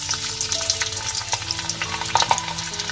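Garlic fries in hot oil in a kadhai, crackling and sputtering steadily with bright pops and stirring scrapes, close and alone without talk.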